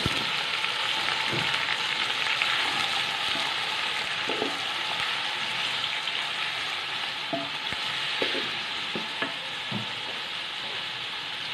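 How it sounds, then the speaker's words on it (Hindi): Onions frying in a pan until golden brown for biryani, a steady close sizzle running the whole time with scattered soft stirring scrapes and no voices. "प्याज को तो हम गोल्डन ब्राउन करके थोड़ा सा निकाल लेंगे"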